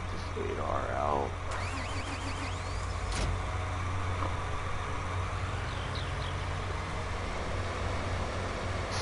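A John Deere 8R tractor engine runs at a steady idle-like drone throughout, close by, with brief mechanical clicks and a person speaking over it early on.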